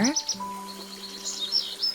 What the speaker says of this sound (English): Birds! I hear birds! They sound so pretty.